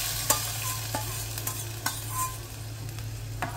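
Spiced oil tempering for sambar sizzles steadily in a pan, with a few sharp clinks and scrapes of stirring over a continuous low frying hiss.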